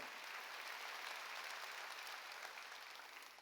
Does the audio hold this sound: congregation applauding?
yes